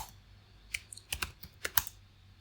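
Typing on a computer keyboard at a terminal: a short run of about eight crisp, irregular key clicks close to the microphone, quiet and alone against a faint background hum.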